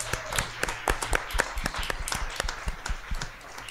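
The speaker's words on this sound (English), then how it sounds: "Yes, give them a round of applause." Scattered hand claps from a small audience at a school district governing board meeting, sparse and uneven rather than a full ovation, fairly close and moderately loud.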